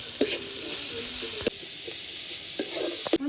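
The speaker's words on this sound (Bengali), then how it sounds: "এখানে পেঁয়াজ এদিকে ভেজে নিচ্ছি" Chopped onions frying in a pan with salt, turmeric and slit green chillies, giving a steady close sizzle with a few stirring clatters and scrapes throughout.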